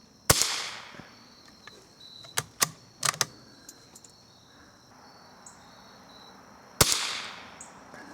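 Two sharp .22 rifle shots fired with old vintage ammunition at a target, spaced several seconds apart, each with a short outdoor echo tail, with light clicks of handling between them and crickets chirping in the background.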